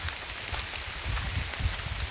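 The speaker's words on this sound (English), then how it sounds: "it is a wet, rainy morning" Steady rain falls on a wet fall morning at a woodland campsite, a continuous broadband patter with soft low thumps of heavier drops, moderately close and with no voices.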